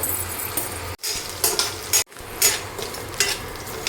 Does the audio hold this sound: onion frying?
yes